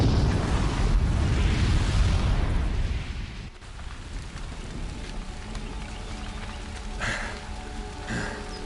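A booby-trapped bomb detonates in Horizon Zero Dawn, a loud, roaring blast that rumbles for about three seconds before settling into a quieter hissing aftermath with a few faint crackles and pops.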